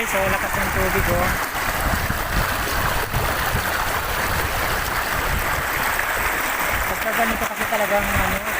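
A strongly flowing river rushes and gurgles steadily at close range, a loud, constant wash of water with people talking over it now and then.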